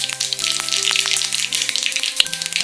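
Mustard seeds in about a spoon and a half of hot oil for curd rice, crackling with a busy patter of small pops over a steady hiss, with faint tonal hum beneath.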